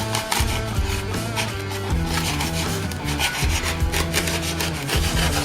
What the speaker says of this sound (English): I'll grab my knife and cut an angle into this.